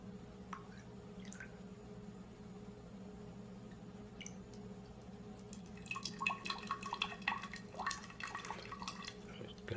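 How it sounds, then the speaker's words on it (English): Water dripping out of the spout of an overflow can in a classroom density setup: a few sparse, faint drops at first, then a quicker cluster of wet drips near the end over a low steady hum. "We will fill the water beyond the overflow, let the water drip out."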